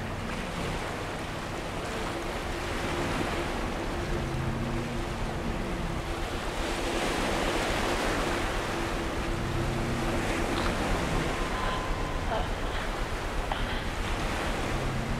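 Water and waves in the video game Among the Sleep wash continuously, a steady surf-like roar that stays loud and close throughout with no talking.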